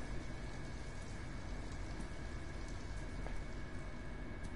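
Steady rain hisses and patters in a video game scene from Detroit Become Human, a soft, continuous wash of drops with no voices over it.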